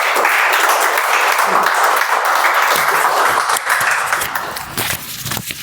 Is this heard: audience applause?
yes